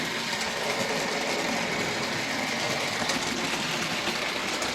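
A Trix Twin Class 5 OO-gauge model locomotive runs on Dublo three-rail track with a steady, dense mechanical whirr and faint rail clatter, continuous and close, with no talking.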